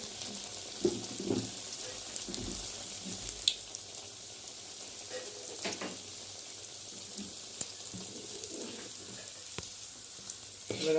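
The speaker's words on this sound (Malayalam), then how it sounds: "സ്പെഷ്യൽ ചിക്കൻ റോൾ അങ്ങനെ സമോസ അങ്ങനെ പൊരിച്ചെടുക്കുകയാണ്" Chicken rolls and samosas deep-fry in hot oil, a steady low sizzle with occasional clinks and stirring sounds, heard close for several seconds with faint background activity.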